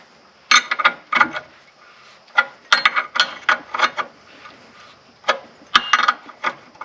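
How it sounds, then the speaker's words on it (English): A ratchet wrench clicks in short bursts while backing out a tie rod bolt on a Mitsubishi Outlander Sport. The rapid pawl ticks come close and crisp, pausing between strokes, with no talking. "we're going to go ahead and take this bolt out."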